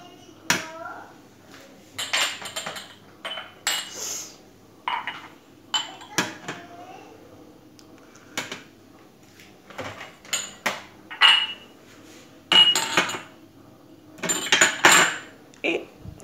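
Glasses being set out for Moroccan tea, with a run of short clinks and knocks of glassware against a tray or table, close and fairly loud, spaced irregularly with quiet gaps between them.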